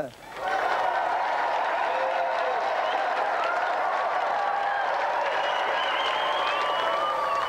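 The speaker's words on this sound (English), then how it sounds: "Another round of applause" A TV game show studio audience breaks into sustained applause, clapping and some cheering, steady and loud for several seconds.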